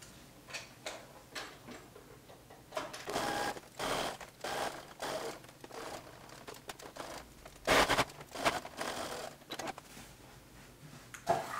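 A sewing machine stitching the front neckline of a camisole, with irregular bursts of rapid mechanical ticking, short runs broken by pauses and a few louder thumps, quiet and close.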